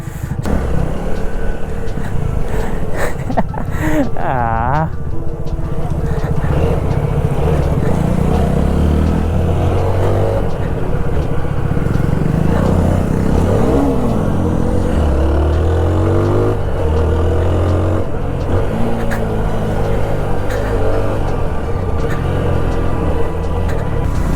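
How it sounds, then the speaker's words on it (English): A Triumph Scrambler 400X motorcycle engine hums steadily for the whole stretch with occasional revving, heard up close as if riding along. "Yeah, that's my buddy Harish, who's riding the bike."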